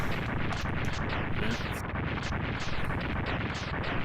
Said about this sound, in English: Running and exploding, exploding and running, exploding.